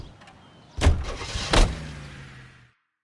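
A car in L.A. Noire pulls off, with a couple of sharp thumps like doors closing and then a brief engine rumble that fades out, with no talk.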